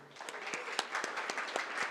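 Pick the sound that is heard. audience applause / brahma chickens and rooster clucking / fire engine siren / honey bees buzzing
audience applause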